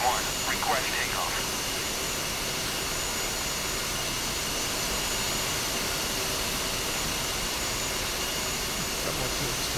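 A video game aircraft's jet engine roars in a steady, loud, continuous drone during takeoff, while a player speaks over it.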